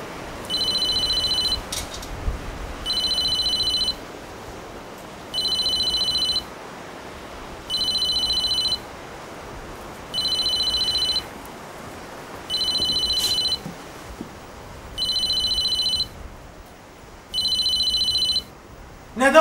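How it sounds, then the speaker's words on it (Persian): A mobile phone rings in eight regular electronic bursts, each about a second and a half long with short gaps, clear and fairly loud over a quiet room. "موبایل هومنه."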